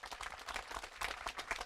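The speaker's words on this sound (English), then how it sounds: "our people in East Kentucky deserve another big round of applause for that" Brief burst of crowd applause at a highway corridor grand opening in East Kentucky, dense clapping of moderate level running steadily for under two seconds.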